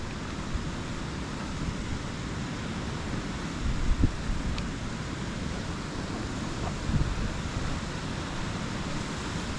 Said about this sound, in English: That's another beautiful waterfall.